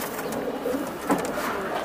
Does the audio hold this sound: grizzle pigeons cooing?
yes